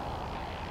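In the video game Rayman, the character's helicopter-hair flight makes a steady whirring, buzzing drone like a small propeller. It is continuous and fairly loud throughout the brief moment.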